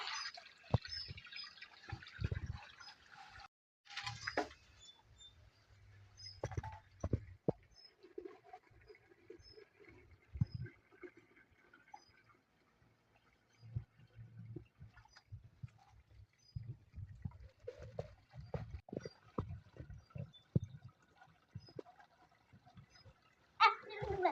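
Water from a hose splashing and trickling onto garden plants during evening watering, soft intermittent patters and drips at low level with scattered bursts, while a person talks quietly at times.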